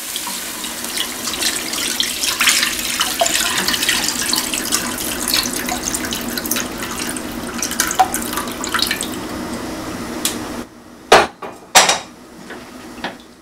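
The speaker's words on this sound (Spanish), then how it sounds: "Ya está hirviendo." Beef broth with tomato, garlic and chile boils in a cooking pot, a steady bubbling, hissing wash that runs for several seconds before a few sharp clanks near the end.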